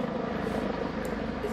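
A police helicopter thrums with a steady low rotor chop for a moment in a drill music video. The sound is faint and continuous.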